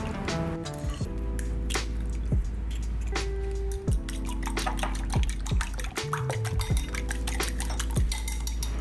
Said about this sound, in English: So I need to get my eggs whisked.